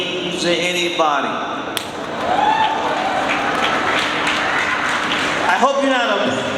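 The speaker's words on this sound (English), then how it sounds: "why are you applauding?" An audience applauds at the Rio Innovation Week talk, a steady wash of clapping through the middle under a speaker's voice, with talk at the start and end.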